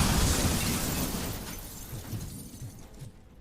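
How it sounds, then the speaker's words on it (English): Grenade blast in Robocop: Rogue City, a loud bursting explosion with shattering debris right at the start that decays into a rumbling tail and fades over a few seconds. "Fucking grenades, man."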